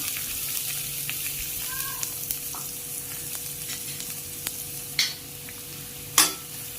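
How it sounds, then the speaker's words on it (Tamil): Chopped onions, three of them, sautéing with cumin in a pan for pepper chicken fry, a steady soft sizzle running throughout with a couple of sharper clatters of a stirring spoon near the end, no voices. "இது நல்லா வதக்கிக்கலாம். நல்லா வதங்கட்டும்."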